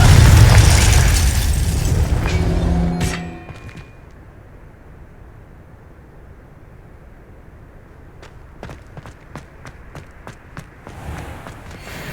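Confringo blasting-spell explosions in Hogwarts Legacy open with a loud, rumbling boom that decays over about three seconds. Quieter sharp pops and footsteps follow in a hushed space.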